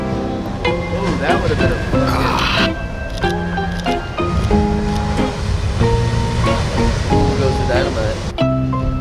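Ocean waves breaking at The Wedge, a heavy, continuous surf roar with rushes of whitewater, under excited voices and music.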